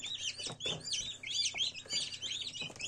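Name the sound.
newly hatched chicks chirping in incubator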